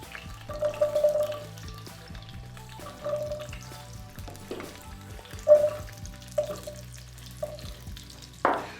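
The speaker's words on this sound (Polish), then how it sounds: "teraz wrzucę cebulki perłowe w całości" Whole pearl onions for veal goulash fry in a pan with intermittent sizzling, punctuated by stirring and clinking of a utensil against the pan, moderately close with no talking.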